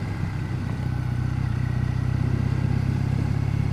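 A 2014 Triumph Bonneville motorcycle engine runs steadily while riding, a close, continuous low rumble with a constant throb and no voices.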